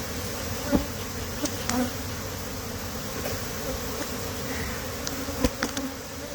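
Honey bees buzzing steadily at a hive, a continuous close droning hum with individual bees passing near now and then, no voices.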